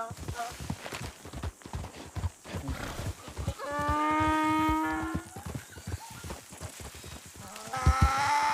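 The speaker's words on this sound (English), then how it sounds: "I hate the mournful cries that this damn goat makes. This donkey makes." A donkey in a video game lets out a long, mournful bray with a harsh, strained tone, heard partway through alongside clopping hooves and someone talking.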